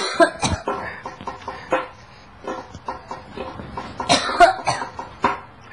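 Someone coughs several times in short bursts indoors, with other voices and animal-like noises mixed in.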